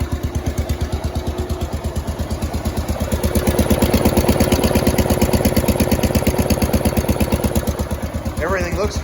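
A 1971 140 H3 tractor engine idles steadily just after starting, a close, fast even pulse that swells a little louder midway, with no talk over it.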